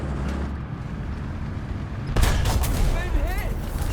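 A tank shell strikes the side of a tank turret in a video game, a sudden loud crashing impact cutting in over rumbling engine and battle noise, with a voice talking beneath.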